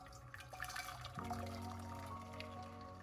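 Pre-boiled water poured into a saucepan for African tea, a quiet steady trickle and splash starting partway through, faint and close.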